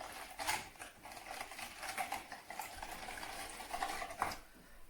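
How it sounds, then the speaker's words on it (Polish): Spoon stirring yeast and sugar into warm milk in a bowl, a steady scraping, clinking swirl that runs throughout at close range with small taps against the sides. "Musimy to dobrze rozmieszać, żeby drożdże się rozpuściły."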